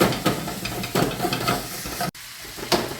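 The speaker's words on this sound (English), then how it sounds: "we're just going to brown it off a bit" Beef mince browning in an oily pan sizzles loudly and continuously up close, with a few brief scraping stirs and a short gap partway through.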